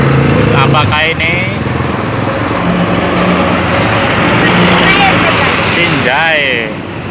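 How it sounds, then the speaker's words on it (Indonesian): Motorcycles ride close around a bus on the Ajibarang–Bumiayu highway, their engines droning steadily amid traffic with rising whines as they speed past, while voices talk over the noise. "Dibayangi oleh para motor,"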